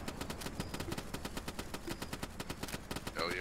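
Rapid machine-gun fire rattles through a military video game in a fast, even stream of sharp shots. The sound stays close and loud for several seconds, with a brief whooshing effect near the end.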